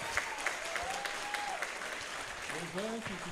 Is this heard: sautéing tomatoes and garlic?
no